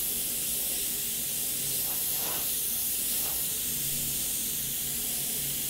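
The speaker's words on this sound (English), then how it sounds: "I'm kind of just spraying over the majority of them" A continuous airy hiss of an airbrush spraying fluorescent green paint, steady and close, with slight swells in intensity.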